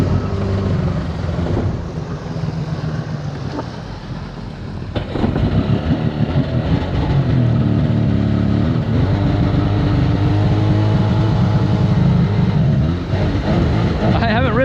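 A Sea-Doo XP personal watercraft engine revs loud and steady, its high whine running continuously with a surge in intensity partway through, while people talk over it.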